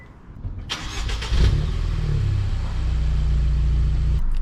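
A Kia's engine cranks and catches after an oil change, then settles into a steady, close idle hum.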